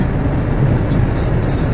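Heavy evening road traffic in the UK, with double-decker buses among the vehicles, heard as a dense continuous low rumble at steady loudness and no talking.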